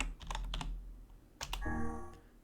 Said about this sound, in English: So I'm going to try typing in NieR.